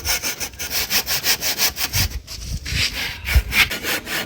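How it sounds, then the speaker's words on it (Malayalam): A hand saw cutting through an AAC block, with rhythmic, gritty back-and-forth rasping strokes about three per second, close and loud, briefly uneven near the end. "ഈ വാളാണ് ഇത് കട്ട് ചെയ്യാൻ വേണ്ടി ഏറ്റവും അനുയോജ്യമായ സാധനം"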